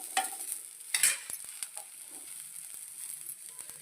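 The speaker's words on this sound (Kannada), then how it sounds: "ಅದೇ ಪ್ಯಾನಲ್ಲಿ ಈರುಳ್ಳಿಯನ್ನು ನಾವು ಫ್ರೈ ಮಾಡ್ಕೋಬೇಕಾಗುತ್ತೆ." Onions and garlic fry in oil in a pan, a soft, quiet sizzle broken by a few sharper scrapes and stirring clatters.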